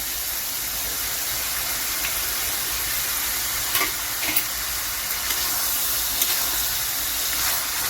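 Chicken and boiled potatoes sizzle steadily in an oil-filled pan during a bhuna chicken fry, a constant close hiss with a few faint scrapes of stirring.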